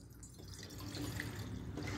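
Water runs from a tap and pours into a vessel for a simple science demonstration, a continuous splashing trickle that grows fuller as it fills, close and alone.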